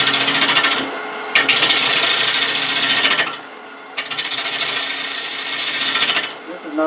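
A wood lathe spinning a potpourri bowl blank at a little over 800 rpm gives a loud, steady scraping rasp as the gouge cuts, in two long bursts broken by brief pauses.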